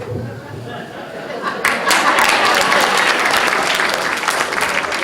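Audience at a magic and mentalism show breaks into applause, clapping swelling suddenly and then holding steady and dense, mixed with murmurs and some laughter from the crowd.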